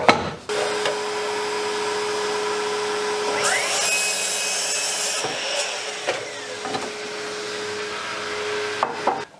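A power saw cuts reclaimed 2x4 timber, its motor whining steadily at close range while a blade bites through the wood in one rising cut, followed by a few sharp knocks and clunks as pieces are handled.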